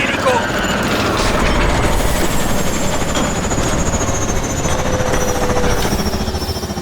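A helicopter in the Call of Duty Advanced Warfare campaign roars with a loud, steady rotor thrum and engine whine that holds throughout.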